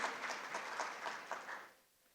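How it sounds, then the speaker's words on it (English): A conference audience at a Women in STEM session gives a short burst of fairly soft, even applause that fades out quickly into near silence. "Should we clap for this achievement?"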